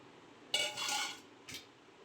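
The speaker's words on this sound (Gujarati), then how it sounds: "હવે આપણે આને મિક્સરમાં જારમાં આ રીતે બધાય મિક્સરના જારમાં નાખીને ઘૂમડી લઈએ।" Chopped sapota pieces are tipped into a mixer jar, making two short clattering bursts of utensil and jar contact, the first longer and louder, the second a quick tap, with no talk.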